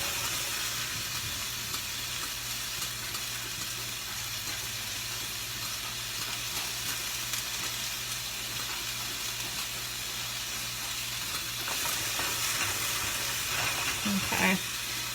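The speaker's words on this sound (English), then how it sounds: "I did turn this down to it's just a medium low to saute these beans up." Green beans sautéing in a skillet over medium-low heat, a steady broadband sizzle and hiss that stays constant throughout, with faint clinks near the end.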